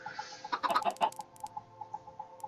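Chickens in Minecraft clucking in a quick cluster of close, bright bursts, followed by sparse softer clucks trailing off over a steady tone.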